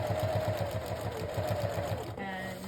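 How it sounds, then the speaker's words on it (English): A sewing machine top stitching a folded comforter, a fast, even mechanical whir with regular needle pulses, running close and steady before stopping near the end. "Top stitching down the comforter where we folded it over, taking the pins out as we go."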